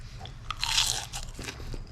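Crisp crunchy seafood being bitten and chewed close up, a few sharp crackling bites followed by softer chewing, with no talking.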